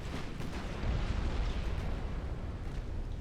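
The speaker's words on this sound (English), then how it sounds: "They got a torpedo on Richelieu." A torpedo strikes the French battleship Richelieu in an 1899 Britain-versus-France naval battle in Ultimate Admiral: Dreadnoughts, giving a dull, rumbling explosion that swells briefly and then settles into a steady low roar.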